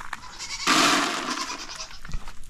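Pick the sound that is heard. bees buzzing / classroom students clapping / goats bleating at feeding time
goats bleating at feeding time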